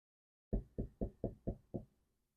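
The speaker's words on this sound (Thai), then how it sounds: "เสียงเคาะที่ตัวรถ" Six evenly spaced, solid knocks on a car body, close and clear, then silence.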